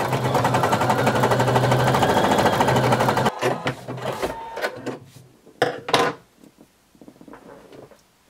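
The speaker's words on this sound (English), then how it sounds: "fold over, and you're going to zigzag all the way around" A sewing machine zigzag stitches elastic onto swimsuit bottoms, running loud and steady for about three seconds, then stopping into scattered clicks and fabric handling.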